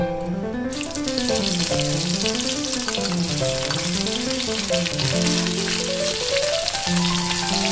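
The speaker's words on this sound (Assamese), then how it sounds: "এতিয়া দি দিছো কটা পিঁয়াজখিনি।" Chopped onions fry in oil in a pan for an urad dal curry, a continuous soft hiss sitting under loud melodic background music that runs throughout.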